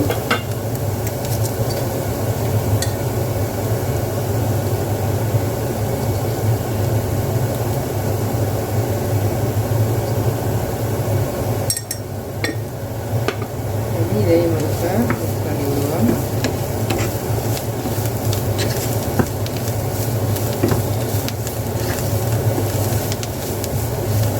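Spring onion stir fry cooked Jaffna style is stirred continuously in a hot pan, giving steady scraping and a constant loud sizzle with no talking throughout.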